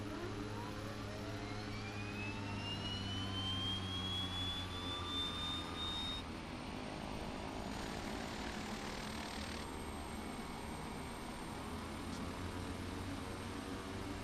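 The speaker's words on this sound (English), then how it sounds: "Alright, right engine started." The right engine of a Beechcraft King Air 350 in the FSX flight simulator spools up, its rising turbine whine climbing over a steady roar, continuous and without talk.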